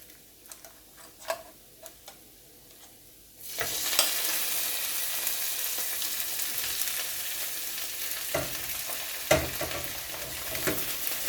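Shrimp hit a pan of browned butter and burst into a loud, steady sizzle after a few quiet utensil ticks, with occasional clinks of stirring over the continuous frying.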